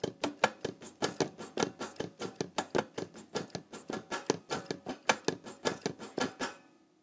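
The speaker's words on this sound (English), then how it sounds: "Pick up the fingers, slam them down in time. You can hear the pattern like this." Trumpet valves pressed down hard in a rapid finger pattern with no notes blown, a steady run of sharp, close clicking taps that stay alone and fairly quiet throughout.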